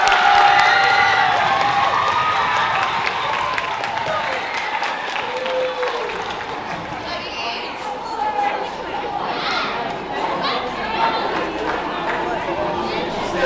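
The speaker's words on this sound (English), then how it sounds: "let's actually give another round of applause for our wonderful drummers" Audience at a school Black History Month assembly applauds the drummers, a dense wash of clapping with crowd chatter and a few shouts, fairly loud at first and easing slightly while staying steady throughout.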